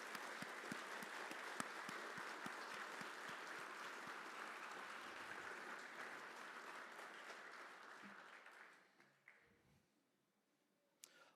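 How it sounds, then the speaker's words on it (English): An audience at an awards ceremony claps for the award recipients, a full, steady round of applause with distinct individual claps that gradually thins and fades out near the end. "One more round of applause for all of those receiving awards."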